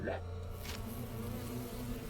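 Steady, close buzzing of bees in The Hundred Line: Last Defense Academy video game, a continuous insect drone with a few brief swells and no speech.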